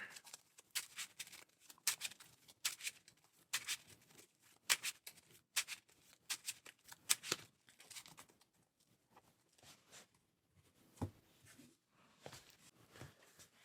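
Faint, close shuffling of Marvel Champions game cards: irregular soft papery flicks and taps in quick clusters, thinning out toward the end with a few isolated snaps.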